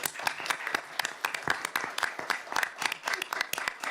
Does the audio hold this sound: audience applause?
yes